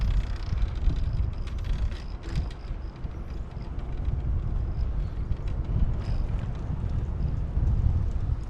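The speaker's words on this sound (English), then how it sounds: "bit of wind out here" Steady low wind buffeting on the microphone during an e-bike ride around a university campus, a loud continuous rumble with no clear speech.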